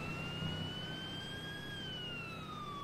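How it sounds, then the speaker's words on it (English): Ambulance siren in the Arma 3 video game, a continuous wailing tone that rises and slowly falls in pitch, fairly clear over low engine rumble and no talk. "I heard the ambulance."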